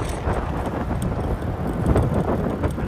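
Wind buffets the microphone while cycling, a rough, fluttering low roar that gusts unevenly throughout, with faint rattles and no voices.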